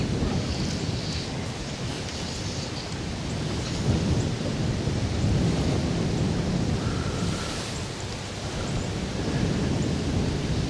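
Wind gusts roar across the microphone during float fishing, a steady broadband rumble that swells and eases in waves, loud and close, with no talking.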